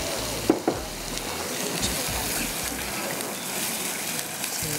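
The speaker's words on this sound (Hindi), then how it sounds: "चिकन इसके अंदर अपना ऐड कर दूँगी, इसकी थोड़ी सी भुनाई करेंगे." Chicken frying in oil with green chillies for biryani, a steady close sizzle and crackle with a few sharp spatula scrapes near the start, no talk.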